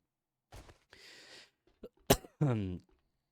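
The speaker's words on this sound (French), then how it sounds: "Désolé si je tousse un peu là." A few scattered coughs and throat noises close by, with short quiet gaps between them, ending in a brief voiced sound.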